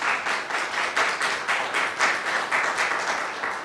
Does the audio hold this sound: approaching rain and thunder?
no